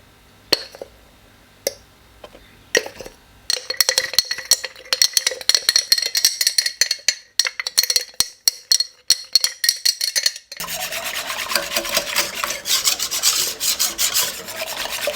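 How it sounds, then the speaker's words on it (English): A whisk scrapes and rasps rapidly in a bowl, stirring custard powder into a raspberry trifle mixture, with scattered taps first, then a quick, steady run of close strokes and a rougher, noisier stretch at the end. "I just want to whisk this in."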